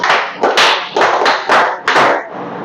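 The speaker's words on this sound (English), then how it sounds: "Can we give a power clap?" A classroom group gives a power clap: about five loud, sharp bursts of hands striking in unison, rhythmically spaced and fairly close, with no talking over them.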